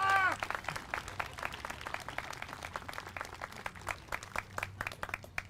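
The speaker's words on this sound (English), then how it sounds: "Everybody clap!" Crowd at the Lincoln Veterans Parade claps together outdoors, a dense burst of many hands that starts loud and settles into steady scattered clapping, with a low background hum.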